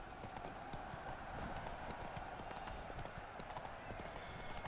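Hooves of the horse Roach clip-clopping steadily along a path in The Witcher 3, a continuous even gait heard alone at moderate distance.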